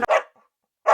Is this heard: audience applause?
no